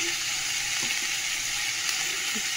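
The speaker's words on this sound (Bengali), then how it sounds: "কুঁদলি ভাজা না বেশি তেল লাগে না, অল্প তেলেই এটা ভাজা হয়" Ivy gourd sizzles and crackles in hot oil, a close, even frying hiss with occasional soft stirring sounds.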